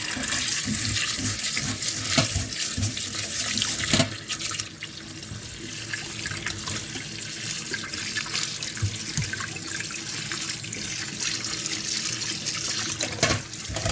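A kitchen tap runs steadily into a sink while lentils are washed, a continuous full rush of water with small splashing variations, close and loud.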